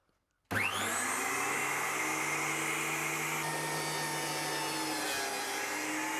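A Carbatec thicknesser planer bursts into life after a moment of silence and planes a piece of timber, giving a loud, steady, close whirring roar that holds without a break.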